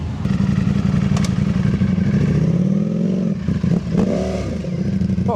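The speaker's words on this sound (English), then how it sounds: "Oh look, the little Benelli. This is the TNT 125. Super cute bike." Benelli TNT 125 motorcycle engine at a busy Matlock Bath bank holiday gathering, heard close as a steady buzzing idle with small rises in pitch and some clatter, alone without talk.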